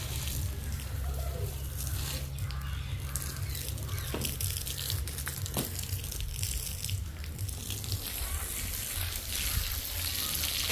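Steady rushing water runs continuously, like water being poured out in a stream, with a constant low rumble and occasional faint clinks.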